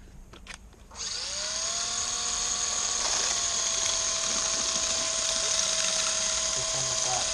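A power drill bores into the back of a phone being broken apart, starting after a second and then running as a steady, loud high-pitched whine with a slowly shifting tone. Brief clicks come before it spins up.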